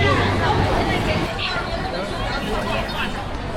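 Dense crowd chatter at a busy Chongqing light rail viewing platform, many overlapping voices forming a steady, fairly loud babble with no single speaker standing out.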